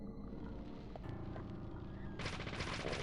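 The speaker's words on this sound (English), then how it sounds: "Assault rifle." Assault rifle fire in the video game Deadly Premonition, a burst of rapid automatic shots that intensifies into dense, continuous fire over a few seconds.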